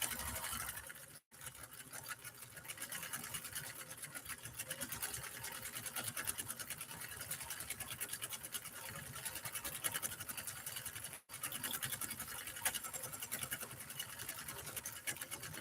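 A Nordic Husqvarna Automatic sewing machine runs steadily while stitching a Christmas star pattern, a fast rattling mechanical whir broken by two brief stops, with no talking.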